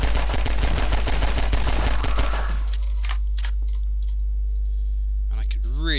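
Rapid gunfire in the Source-engine mod game Precursor, a loud burst of repeated shots over the first couple of seconds, then isolated impacts and clicks with electronic chirps, close and dominant.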